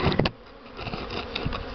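Honeybees fly around hives on a warm spring day, a dense, steady buzzing swarm heard close and continuous with a few louder passes near the listener.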